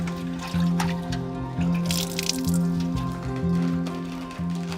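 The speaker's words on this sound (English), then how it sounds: "Working swiftly in tandem, they rinse, dye, and wring out handfuls at a time." Handfuls of wet feathers for handmade shuttlecocks are rinsed and wrung out, with repeated squishing, dripping and sloshing of water in rhythmic bursts close by, over a low steady hum.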